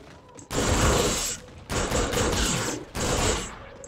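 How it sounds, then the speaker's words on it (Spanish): A pulse weapon fires in Call of Duty: Infinite Warfare zombie mode, giving three loud, sustained bursts of rapid gunfire separated by short pauses, with no talking. "Vale, esto es un arma de pulsos"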